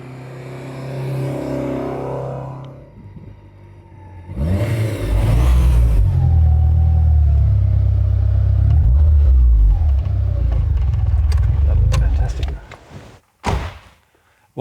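A Lancia Delta Integrale 16V rally car starts with a door thunk, then its engine settles into a loud, close, deep rumble and idle for several seconds before a sharp door slam near the end.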